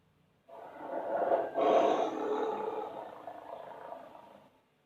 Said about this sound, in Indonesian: kucing diputarkan audio suara harimau